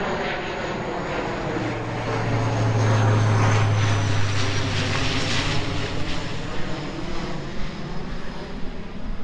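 A propeller airplane flies low over a lake on approach to the airport, its engine drone swelling as it passes overhead and then fading slowly, loud and continuous outdoors with no talking.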